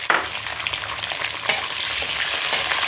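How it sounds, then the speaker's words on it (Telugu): Sliced onions fry in a pan with urad dal, dried red chillies and curry leaves, giving a loud, continuous sizzle with a few sharp crackles and stirring scrapes close by. "దోరగా వేయించాలి."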